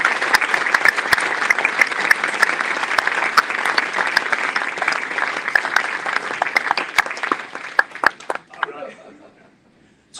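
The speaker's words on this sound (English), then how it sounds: "Big round of applause please for my friend and colleague Tom Costin" A room full of people at a supporters' trust annual meeting applauds a board member, with many distinct close claps ringing out loudly for about eight seconds before thinning and fading, a voice murmuring near the end.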